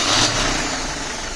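A Mercedes-Benz M102 engine, converted from carburetor to fuel injection, fires up with a brief loud burst. It then settles into a close, steady idle.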